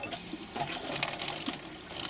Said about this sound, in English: sink with an electric tap, but you see the tap is so slow on this